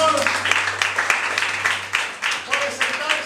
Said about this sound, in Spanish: Le brindas un aplauso al Señor